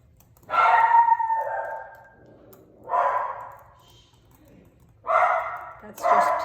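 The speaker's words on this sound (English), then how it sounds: "Petey's barking." A dog barks and yelps in three drawn-out bursts spaced a couple of seconds apart, fairly close and loud, with quiet gaps between.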